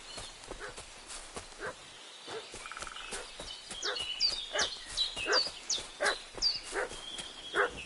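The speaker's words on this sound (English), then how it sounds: "What's that dog making such a fuss about?" A dog barks repeatedly in a video game set in a village, sharp rhythmic barks under birdsong and other ambient sounds, fairly distant and moderately loud, with no talking.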